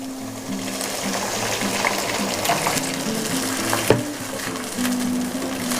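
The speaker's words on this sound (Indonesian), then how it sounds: "Kemudian ditumis-tumis lagi sampai bawang bombaynya layu ya." Sliced onion sizzles and fries steadily in a pan, with occasional stirring scrapes and a sharp utensil knock near the end, cooked for an Indonesian boxed-rice meal.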